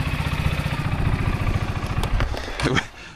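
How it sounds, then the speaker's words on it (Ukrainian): A Bashan 300 ATV engine runs steadily under load while pulling a loaded trailer of about 600 kg, a continuous low, throbbing mechanical drone close by that thins into scattered rattles and clatter near the end. "щоб зняти вам тест на тягу квадроцикла Башан 300, використовую прицеп"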